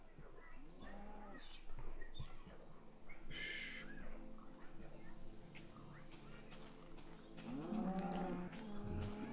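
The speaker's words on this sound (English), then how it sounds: "Got a lot of cow." Cows in the Minecraft video game let out a few low moos under a player's ongoing talk, with a louder moo near the end.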